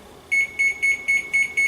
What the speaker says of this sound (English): So I'm going to go ahead and set my timer for